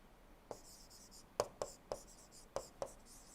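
Chalk or marker strikes a board during an engineering lecture on engine operating characteristics: about seven quick, faint tapping strokes spaced irregularly against a quiet room.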